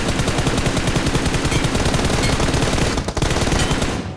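Dense automatic gunfire from a battle royale video game, loud and close, rattling continuously for about four seconds with a brief gap near the end before fading.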